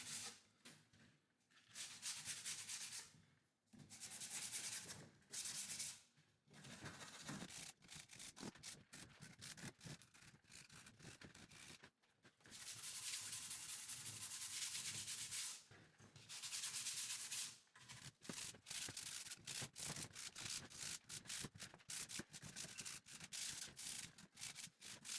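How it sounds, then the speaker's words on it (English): Wooden plant rack frames are sanded by hand, with close, rhythmic abrasive strokes repeating in long runs broken by short pauses. "I hand sand the frames, making sure all edges and faces are smooth."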